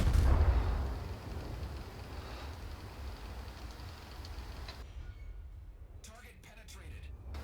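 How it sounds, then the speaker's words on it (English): Warship guns fire in World of Warships: a heavy boom opens the salvo, then a low rolling rumble lingers and fades into quieter battle ambience. "Let's see if we can target him and get some shots off real quick."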